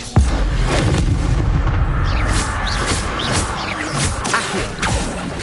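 The Incendio fire spell in Hogwarts Legacy goes off as a loud booming blast that opens into a sustained roaring, crackling rumble, with dense low-end noise throughout.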